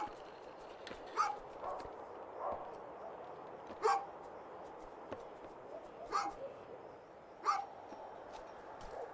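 A dog barks in the video game A Juggler's Tale, four sharp yappy barks spaced a couple of seconds apart over a quiet, faintly humming background.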